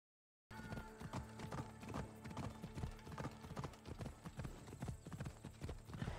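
A horse gallops in the video game Assassin's Creed Odyssey, its hooves making a fast, steady run of loud, close clip-clops that continues throughout.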